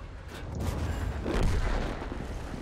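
A tank cannon shot from a Pz. 58 Mutz in a tank battle video game comes as a heavy, muffled boom that swells and rolls away over a couple of seconds, with no talk.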